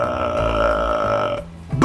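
A person makes a throaty burp-like sound with a tightened throat as the first step in imitating a dog. It is a loud, sustained, close, croaking belch that lasts over a second, followed by a short rising vocal squeak.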